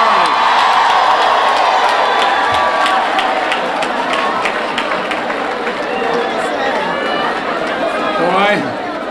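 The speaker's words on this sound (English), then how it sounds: "round of applause for them" A large crowd applauds and cheers at the Delta Sigma Theta sorority's centennial celebration in New York City, a loud sustained roar of clapping, whoops and chatter filling the hall for about nine seconds.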